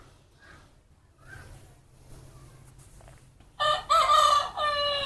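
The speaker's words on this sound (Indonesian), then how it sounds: "Krokek krokek kata ayam." A rooster crows loudly and close by, one strong cock-a-doodle-doo that comes in after a few faint, softer bird calls and quiet background noise.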